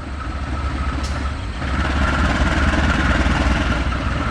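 A CC 201 series diesel locomotive train passes Pasir Jengkol station, a steady loud engine rumble and rolling roar that swells partway through and holds close by.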